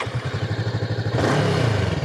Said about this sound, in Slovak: tak vám ju musím ešte naštartovať